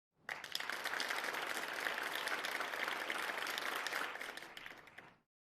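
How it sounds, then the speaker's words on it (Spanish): An audience claps together in sustained, even applause that starts abruptly, holds steady for about five seconds, then fades and stops, with no one talking over it. "Saben aplaudir de verdad."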